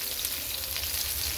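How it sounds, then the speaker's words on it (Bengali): Pointed gourd (potol) fries in oil, producing a quiet, even sizzle and crackle that runs unbroken from start to finish. "আমাদের আজকে দুপুরে খাবার হচ্ছে পটল ভাজা"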